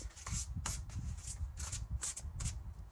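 Oracle cards are shuffled close by in soft repeated riffles and rubbing swishes, a steady quiet rhythm with no voices.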